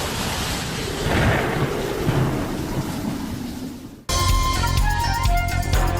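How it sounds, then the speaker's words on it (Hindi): Heavy downpour with rolling thunder around the Burj Khalifa in Dubai: a dense, loud rain roar with deeper rumbles swelling through it, cut off abruptly after about four seconds by a switch to music. "बुर्ज खलीफा में बारिश के दौरान आसमानी बिजली कड़कती देखी गई।"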